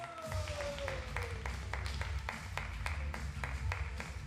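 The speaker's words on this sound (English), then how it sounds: "Welcome with a big applause from Uzbekistan" An audience at a 10 m pistol shooting final applauds steadily, with dense clapping filling the hall throughout and a loudspeaker voice briefly audible underneath.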